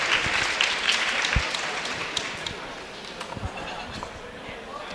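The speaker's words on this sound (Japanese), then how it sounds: "今までを支えていただいたヨギボーさんに大きな拍手お願いいたします。" Audience applause at a Smash Bros Wii U tournament final, a dense, loud burst of clapping that gradually thins out, with scattered claps continuing near the end.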